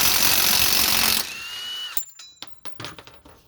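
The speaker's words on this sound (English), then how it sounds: "Always helps to have a good impact gun. I really like these Milwaukees." A Milwaukee impact gun, the medium-size model, spins with a sustained high whir for about a second, then winds down, followed by a quick series of sharp ratcheting clicks and metallic knocks up close.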